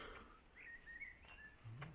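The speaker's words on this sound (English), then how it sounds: "There's those birds singing." Birds sing faintly in the distance beside a canal where a narrowboat is moored among daisies, giving a few thin, high chirps and short warbles over a quiet outdoor hush.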